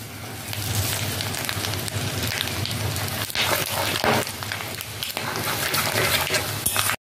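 Dry red chillies, cinnamon, peppercorns and cardamom drop into hot oil in a pan for a spicy chicken dish, giving a steady, soft sizzle and crackle with a few sharper pops, close and continuous with no talk.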